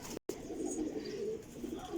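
Pigeons coo steadily at close range in a low, continuous murmur, broken by a brief silent gap near the start; sold as good flying pigeons.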